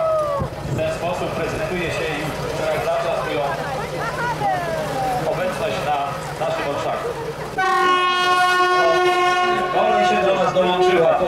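A train rumbles past with screeching, squealing wheels during a Three Kings Day procession in Zamość, then a loud sustained horn blasts near the end; voices can be heard talking under the noise.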